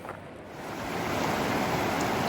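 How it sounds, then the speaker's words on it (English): River flowing beside a campground in spring snow, a steady rushing wash of water that rises from quiet to a fuller, continuous roar, close and unbroken. "the campground's right here along the river, which is always a wonderful sound"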